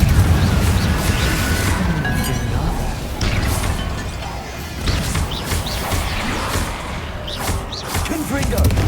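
Explosive blasts from the Confringo fire spell in Hogwarts Legacy crash and boom repeatedly over dense game noise, with a voice shouting the incantation between impacts.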